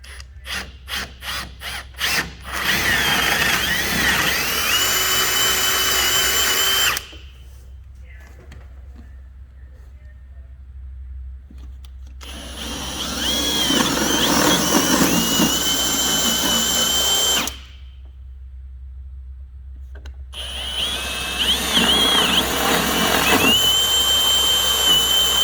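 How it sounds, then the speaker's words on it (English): Power drill with a sharp 5/8-inch bit boring holes through pontoon boat deck flooring, three loud whirring bursts separated by pauses, each close and steady, with a person talking in between. "we're going to drill these holes. I use a 5/8 bit, really sharp. It's going to cut through this flooring just fine."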